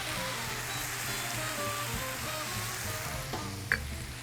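Diced vegetables and small diced beets fry in a pan with sesame oil, giving a steady, close, continuous sizzle with no talk over it.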